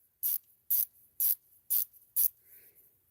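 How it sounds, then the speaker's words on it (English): Five crisp ratcheting clicks come from a 72-tooth ratcheting screwdriver fitted with a Pipevise ratcheting adapter, evenly spaced and close by, each a short sharp burst, with quiet between them. "Now you got a ratcheting screwdriver."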